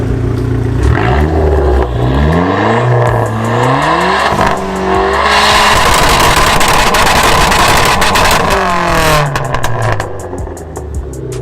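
A Dodge SRT4 doing a burnout at an end-of-season car meet, its engine revving hard in repeated rising and falling sweeps, loud and close, then holding a sustained high-rev roar before easing off at the end.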